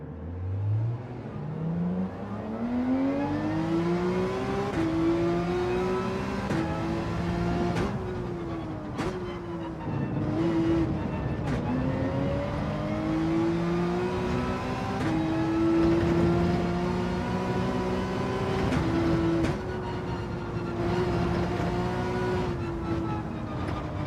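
A Subaru WRX race car engine in Gran Turismo 7, lapping Deep Forest during a GT World Series round, revs up through the gears, its loud, steady tone rising and dropping with each shift and never letting up, with no voices.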